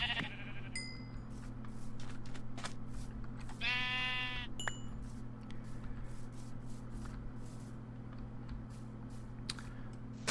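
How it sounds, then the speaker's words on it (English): Sheep bleats from the Minecraft video game: one clear, wavering bleat near the middle, with a few short clicks and taps over a steady low background hum. "Alright, sheep. It is your time to die."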